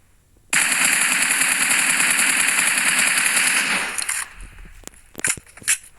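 Sustained rapid automatic gunfire from a magic-bullet weapon in a shooter video game rattles loud and continuous for about three and a half seconds, then breaks into a few scattered short bursts.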